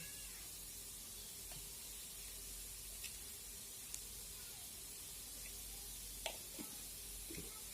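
Rice frying with spices in a pan for egg biryani: a soft, steady hiss and faint sizzle throughout, with a few small clicks and scrapes of stirring, quiet and without talk.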